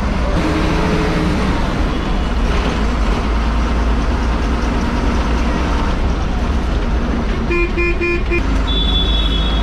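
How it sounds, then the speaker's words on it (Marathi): An MSRTC Lalpari red state transport bus on a long Hyderabad–Hingoli route passes on the road toward Mahur, with loud, steady traffic rumble and a few horn toots near the end. "समोरून जी गाडी आली ती आहे लालपरीच आहे, पण ती खूप लॉंग रूटची आहे."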